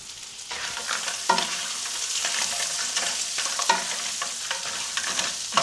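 Garlic sizzles steadily in hot butter and fat in a pan while a utensil stirs it, with scraping knocks recurring every second or so over the continuous frying hiss.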